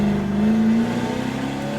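A car engine with no sound deadening and solid engine mounts revs loudly and close, a steady buzzy drone that climbs slightly then settles, with no talk.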